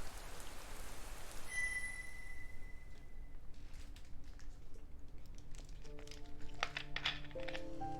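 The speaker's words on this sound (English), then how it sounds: "watching rain's downward dive" Rain falling in a fantasy dragon video game, a steady soft hiss of drops at moderate distance, joined by faint tonal chimes and light patter toward the end.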